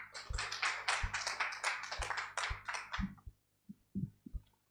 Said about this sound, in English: Can we make the applause louder, please?